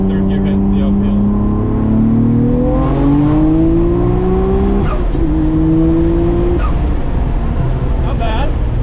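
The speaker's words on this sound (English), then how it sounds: "We'll do a third gear hit and see how it feels." An all-wheel drive car pulls hard through third gear, its engine note rising in long sweeping climbs with a brief dip between pulls, loud and close, with people talking excitedly over it.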